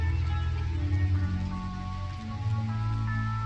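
Steady rain patters down across a video game kingdom, a continuous wash of falling drops with soft musical tones drifting underneath.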